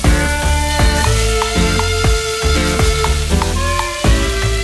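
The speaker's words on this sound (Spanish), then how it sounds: "En un chorrito de aceite caliente, trae de vuelta el lomo y deja cocer por unos 4 minutos." Beef loin sizzles steadily in a splash of hot oil, with loud continuous frying crackle and repeated clinks and scrapes of a utensil against the pan.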